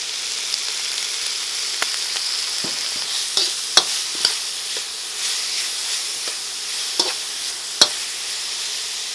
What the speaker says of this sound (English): After that, we're gonna add our cabbage and carrots, get them nice and softened.